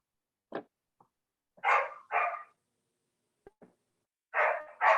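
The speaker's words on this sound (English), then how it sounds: "is that your dog?" A dog barks during a town master plan meeting in Tisbury, giving several short, sharp barks and a few faint yips spread over a few seconds, fairly close and with no talk over them.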